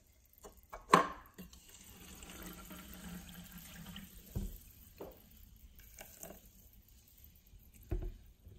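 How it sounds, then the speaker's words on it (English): Mineral water, a Peñafiel bottle sourced from Mexico, is poured into a glass, giving a soft, steady splashing trickle that runs for several seconds, with a sharper knock near the start and a few clinks afterward. "Let's pour some water in."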